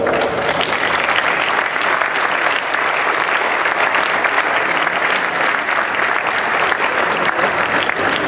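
A crowd at a Christmas party claps loudly and steadily throughout, welcoming new coach Zoltán Nagy, with dense, even applause and no break.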